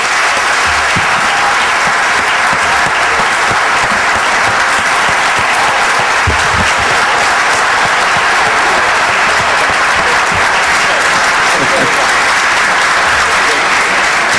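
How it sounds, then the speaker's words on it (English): An audience gives a sustained round of applause for three speakers after an evening discussion, a loud, dense and unbroken wash of clapping lasting throughout. "Don't you think we should give these three a round of applause?"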